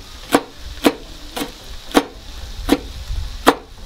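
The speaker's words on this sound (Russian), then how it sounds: "Нарезаем просто кругляшками." Six sharp knife strokes through hot chili pepper on a cutting board, evenly spaced about half a second apart, close and crisp with no talking.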